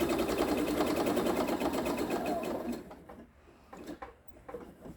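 A sewing machine stitching an oven mitt with a big stitch, a fast steady mechanical whirr and needle ticking close by for a few seconds before it stops, leaving a few soft handling knocks.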